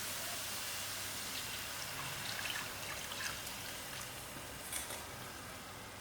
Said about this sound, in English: These are the masala that I had mixed to the cup of water, so I'm going to add it in gradually to the tomatoes